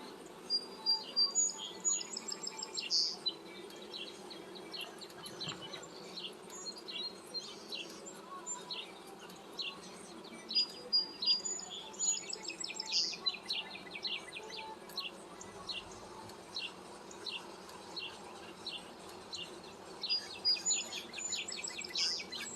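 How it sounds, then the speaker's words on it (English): An open honeybee hive hums with a low, steady buzz of many bees during a Sunday inspection, faint and continuous beneath repeated bird chirps and calls nearby. "The sound of the hive is changing."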